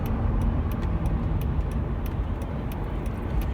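A Mercedes S320 imported from Japan rolls along the road in a steady low rumble of engine and tyre noise from inside the cabin, with faint ticking clicks above.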